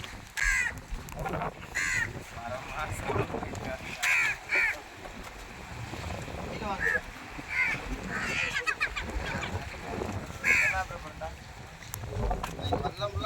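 Several crows caw in short bursts at intervals over continuous outdoor noise and wind at the seashore, with people talking throughout.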